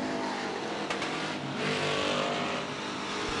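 Race cars roar along the back straightaway of a speedway during a heat race, a continuous loud engine drone with a rising surge midway, as if several cars are passing.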